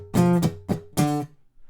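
A string instrument, likely bass, plays the post-verse riff of a song: four short plucked notes in a quick syncopated rhythm, close and clear with no talking.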